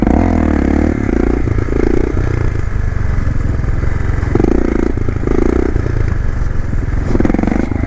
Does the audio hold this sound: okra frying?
no